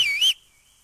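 A sharp, loud whistle calls a horse in Kingdom Come: Deliverance, a rising and falling tone lasting about a third of a second before cutting off into near silence.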